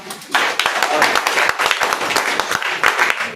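Classroom children clap together in a burst of applause, busy and close, with young voices chattering underneath throughout.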